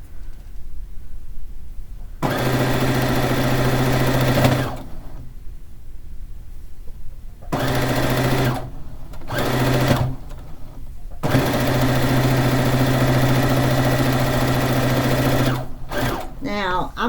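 An electric sewing machine stitches fish quilt blocks in long loud runs, stopping briefly between bursts before whirring again, with no speech over the stitching.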